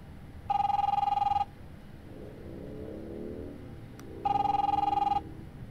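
An old-style telephone in The Wolf Among Us rings twice, each ring a clear, trilling bell burst of about a second, separated by a pause over a low background hum.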